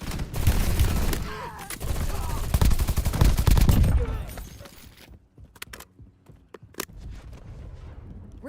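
Rapid automatic gunfire in a video game, loud dense bursts for the first four seconds, then tapering into scattered single shots and clatter with brief game voice lines.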